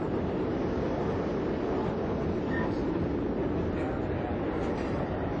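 A PATH train running through the Hudson River tunnel gives a steady, dense, enclosed rumble and rushing noise, with faint rail squeals over the continuous din.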